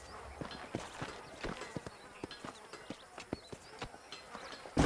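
Horse hooves clip-clop at a steady walking rhythm in the Western video game Red Dead Redemption, near and moderately loud over faint ambient buzzing, with a brief louder burst at the end.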